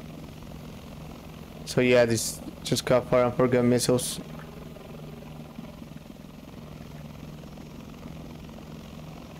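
Helicopter in a war video game armed with fire-and-forget missiles, a steady low rotor hum running throughout, moderately loud, with someone talking over it for a couple of seconds in the middle.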